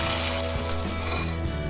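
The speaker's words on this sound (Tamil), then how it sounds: "எண்ணெய் காஞ்சிருச்சு. இப்போ ஃப்ரை பண்ணிடலாம்" Noodles frying in hot oil for a prawn kunafa, a constant close sizzle with light stirring and scraping sounds under a low kitchen hum.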